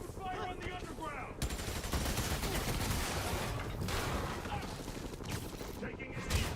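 Gunfire in Marvel's Spider-Man Miles Morales: dense, continuous machine-gun bursts fired up close with mechanical clatter, and a voice speaking over the shooting at the start.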